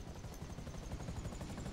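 A video game helicopter drones steadily with a rapid rotor chop and a faint high whine, low and continuous throughout with no talking.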